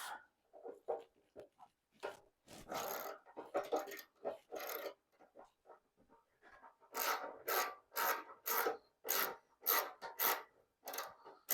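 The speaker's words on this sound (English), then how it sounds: "let's get this petcock off" Work on the fuel petcock of a Suzuki GS750 tank: close scraping and rasping strokes, sparse at first, then a steady rhythmic series of short bursts, with no talking.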